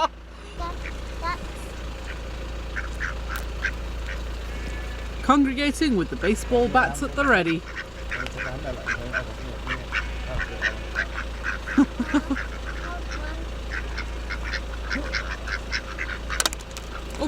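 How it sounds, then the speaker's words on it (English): Ducks quacking and honking at a family farm, scattered calls throughout with a busier cluster midway, heard alongside people talking nearby and a steady low hum. "Happy ducks."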